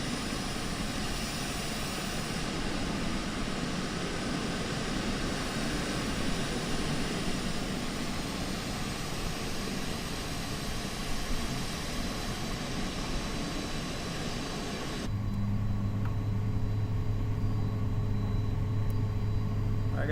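Learjet 35A jet engines rolling for takeoff in MSFS2020, a dense, steady roar and rumble that shifts into a lower, tonal drone partway through, continuous and loud.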